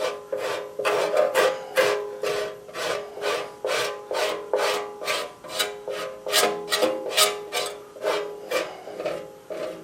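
Hand sanding or filing knocks down high spots and globs on a part for a homemade four-cylinder Briggs engine, a close, loud, rhythmic rasping in about twenty evenly spaced strokes with no talk.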